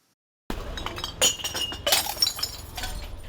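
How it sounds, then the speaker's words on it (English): Glass bottles clink and knock together at a recycling station early in the morning, with sharp, uneven clatters and a few louder jangling hits in a busy, close handling sequence. "Working at the recycling station early in the morning, Wu Yuanzai and his wife carefully removed the caps from the glass bottles."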